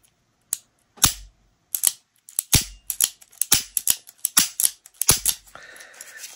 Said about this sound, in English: pull the trigger. You can see the firing pan, release the trigger, pull the trigger for the double action trigger pull.